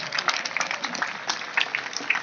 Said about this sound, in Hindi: जोरदार ताली में कोताही मत करिए।